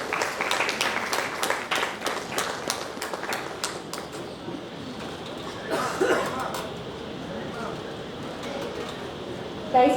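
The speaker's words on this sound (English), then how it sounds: "Please give a big round of applause" An audience at an HR conference session gives a burst of clapping that fades after a few seconds, followed by murmuring and shuffling in the hall.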